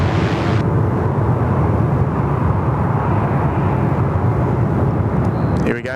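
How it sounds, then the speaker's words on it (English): Capital Airlines Airbus A330 jet on the runway at Sydney Airport, a loud continuous engine roar that holds steady throughout and fades slightly at the very end, with no talk over it. "Got the Capital Airlines A330 about to join us here on runway right."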